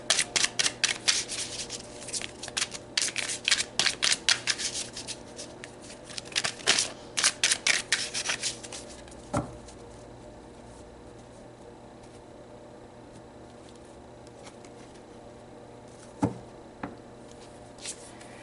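Tarot cards are shuffled by hand in a fast run of crisp riffling flicks and slaps over the first several seconds, then only a couple of isolated soft snaps as cards are pulled, close and fairly quiet.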